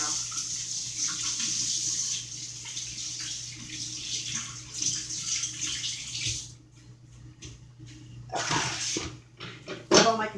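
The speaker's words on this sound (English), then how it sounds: "Let me wash my hands, guys, because that's wrong and then cut everything out." Hands washed under a running kitchen tap, a steady close rush of water that breaks into splashes and drips near the end, with faint background noise and no clear talk.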